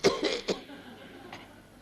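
A lady's false cough is imitated by a voice, with two or three short, close coughs in quick succession followed by quiet.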